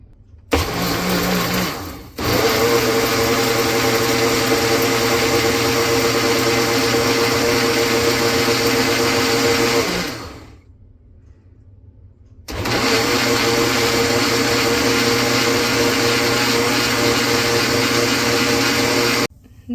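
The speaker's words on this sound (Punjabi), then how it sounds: "ਹੁਣ ਇਹਨੂੰ ਆਪਾਂ ਮਸ਼ੀਨ ਦੇ ਉੱਪਰ ਲਾ ਕੇ ਤੇ ਇਹਨੂੰ ਆਪਾਂ ਮਿਕਸ ਕਰਾਂਗੇ" A kitchen mixer grinder blends homemade healthy drink powder with milk, running as a loud, steady whirring roar in two long bursts. The motor stops briefly between them, and a short start at the beginning cuts out almost at once.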